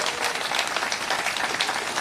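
An audience at a county chairs' brunch applauds, a dense, even wash of clapping from many hands that holds steady for a couple of seconds, with no words spoken over it.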